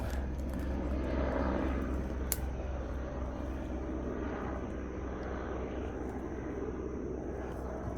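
Steady low engine drone of a low-flying helicopter about 500 feet overhead, loud and continuous throughout, with a constant high whine layered on top.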